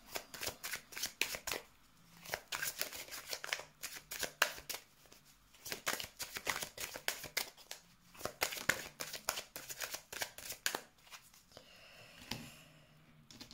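Cards riffled and shuffled up close before a card draw, repeated bursts of crisp flapping and snapping with brief pauses between, no talk.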